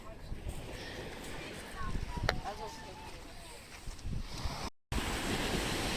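Sea surf washing onto a pebble beach at Bray, County Wicklow, Ireland, a steady broadband roar with wind buffeting the microphone, a brief dropout near the end, and no clear talking.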